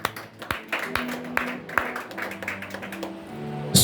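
A church congregation claps in scattered, uneven applause, sharp hand claps rising and falling at moderate loudness over a faint background of voices.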